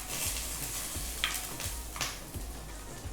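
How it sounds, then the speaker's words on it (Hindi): Makhana (fox nuts) roasting in hot ghee make a soft, quiet sizzle with occasional stirring clicks and scrapes, heard alone without speech. "तो 1 बड़ा चम्मच घी पहले डाल लेते हैं। चलिए, अब घी गर्म हो गया। सबसे पहले मखाने भून लेते हैं।"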